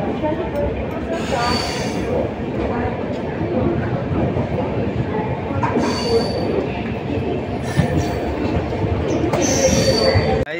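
The Darjeeling Mail pulling into New Jalpaiguri Junction, a loud, continuous rumble of rolling coaches with squealing wheels and rhythmic clatter over the rails, steady throughout with voices murmuring beneath.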